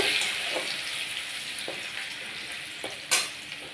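Crushed garlic with five-spice fries in hot oil, a steady sizzling hiss with a few sharp scrapes and clinks of a spatula stirring in the pan.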